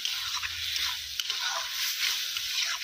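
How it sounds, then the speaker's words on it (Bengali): Fried potatoes are stirred into spice masala for egg curry in a village kitchen, a soft close sizzle with faint scraping and squishing throughout. "এরপর ভেজে রাখা আলুগুলো মা মশলার মধ্যে দিয়ে দিয়েছে, দিয়ে ভালো করে মিক্স করে নিচ্ছে"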